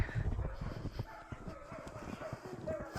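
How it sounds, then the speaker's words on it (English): Small dogs howling and yipping indoors on a snowy morning, heard faintly and intermittently in the background beneath a person talking nearby. "My little dogs are inside howling"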